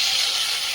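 Fried fish goes into spiced oil in a pan, giving a steady, close, bright hiss of sizzling that stays even and unbroken for a brief moment.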